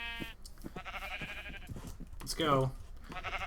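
Minecraft sheep bleat in a fenced pen, one clear wavering bleat rising above steady talking, with fainter bleats nearby.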